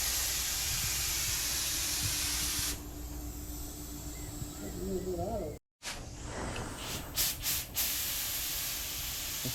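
A spray gun lays a second coat of paint on the hood of a 1981 Corvette, giving a steady, loud hiss that runs nearly throughout, briefly cutting out once, with a voice heard faintly near the end.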